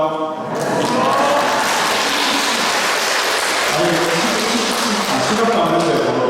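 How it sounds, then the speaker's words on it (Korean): A room full of people at a Catholic lecture claps in a loud, sustained burst, with some murmuring voices mixed in. "바로 박수요"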